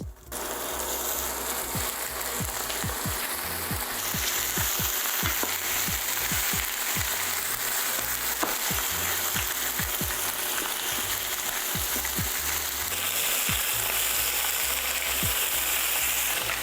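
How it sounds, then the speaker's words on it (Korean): Beef short ribs sear in a lightly oiled frying pan with a loud, continuous sizzle and scattered clicks and knocks from the pan, steady throughout with no voices. "기름을 살짝 두르고 갈비를 팬에 올려 겉면을 갈색으로 시어링합니다."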